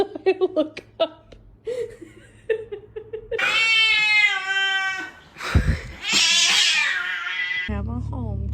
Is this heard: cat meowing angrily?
yes